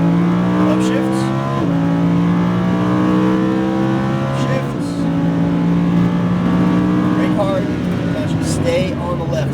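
A Lamborghini Huracan engine roars at full throttle on a track, its pitch rising in long pulls broken by quick upshifts, loud and close, with a voice talking over it.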